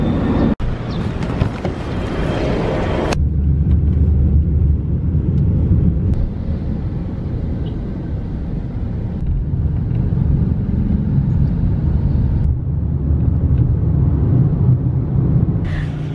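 Steady engine and road rumble inside an Uber car moving through city traffic, continuous and fairly loud throughout with a few soft thumps and shifts, no talking.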